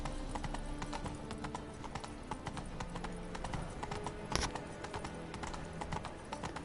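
Steady clip-clop of Roach the horse's hooves at a trot in The Witcher 3, rhythmic and close, running continuously over game ambience with a brief louder knock partway through.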